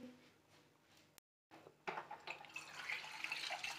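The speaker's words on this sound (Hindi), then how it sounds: "टैप खोलेंगे दोबारा से स्ट्रॉबेरीज बीच में डालेंगे" Tap water running into a kitchen sink as strawberries are washed, a broad hissing splash that starts after a short silent gap and grows steadier and louder toward the end, with no speech.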